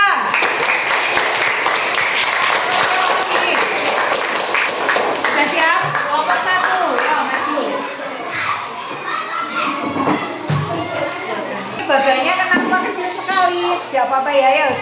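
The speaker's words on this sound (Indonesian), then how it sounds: "tepuk tangan buat kelompok 2" A classroom of children claps for a student group, a lively burst of applause mixed with shouting and chatter that thins midway, then swells again near the end.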